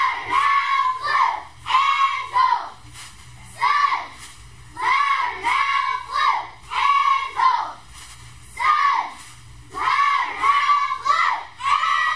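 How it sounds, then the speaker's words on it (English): A pep squad of school students chants a cheer in unison at a school board meeting, loud rhythmic shouted phrases in repeated bursts with short pauses between, voices ringing through the room. "the Pep Squad has a cheer they'd like to share with us all"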